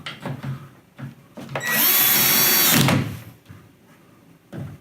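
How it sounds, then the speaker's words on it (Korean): A power drill drives a screw through the metal of an LED ceiling light fixture, a single loud, high whining burst of about a second amid quieter handling knocks and rustles. "이렇게 드릴로 뚫어야 되니까 아까 드라이버로는 안 되겠다"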